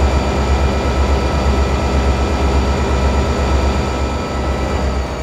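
A trio of classic GP35 diesel locomotives roars as it strains to get a loaded freight train moving in southeast Michigan, a loud, steady, close engine drone with deep low rumble and constant whine, no voices.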